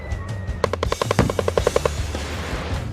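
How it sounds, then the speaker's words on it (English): A tank turret machine gun fires a fast burst of about a dozen sharp, loud rounds on a military gunnery range at Camp Pendleton, over a steady low engine rumble. "One of the best things about being a gunner is being able to use a machine gun"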